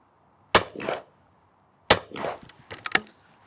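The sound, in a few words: shotgun cartridge fired at clay target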